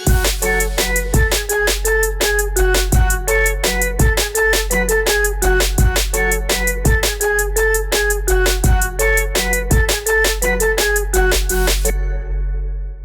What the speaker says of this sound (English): that's basically your drums, 808s, and your flutes, and when you put it together, it sounds insane.